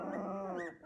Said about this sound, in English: They're all going to growl.